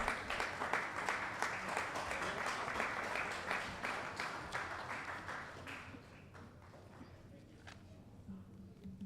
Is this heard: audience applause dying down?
yes